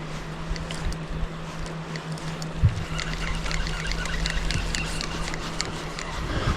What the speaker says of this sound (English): I hear a boat coming upriver.